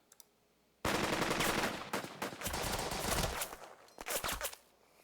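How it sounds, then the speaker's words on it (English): Gunfire in the tactical war game Burden of Command, a loud, dense volley of rifle and machine-gun shots starting abruptly, rolling for several seconds with sharp cracks, then fading into scattered bursts. "let's get shooting at these fellas."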